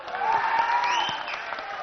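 Audience applause at the golden jubilee celebration of the film Soggadu, a short burst of dense clapping from a crowd with a tonal voice or music line running over it.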